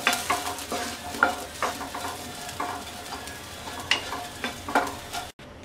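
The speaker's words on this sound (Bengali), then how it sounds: "মটরশুঁটি বেজে নেওয়া হয়ে গেছে এবার আমরা এগুলো তুলে নিচ্ছি" A spatula scrapes roasted green peas out of a hot pan in a steady series of close, rasping strokes over a light continuous sizzle.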